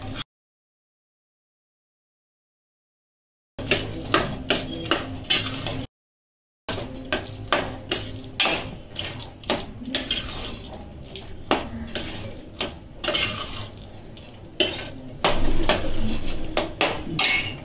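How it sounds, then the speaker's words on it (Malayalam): A spoon clinks and scrapes against a pot while roasted coconut is stirred into a horse gram and tapioca erisherry, in uneven bursts of metallic knocks after a silent gap. "ഈ നാളികേര അല്ലെങ്കിൽ തേങ്ങ വറുത്തതിട്ട് ഇളക്കി എടുക്കുക"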